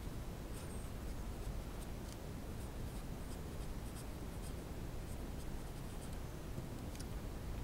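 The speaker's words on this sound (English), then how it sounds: "let me write this down" A pen scratches steadily across paper while measurements from a falling chain on a scale are noted, a close, continuous rustling scrawl with small strokes, no voices.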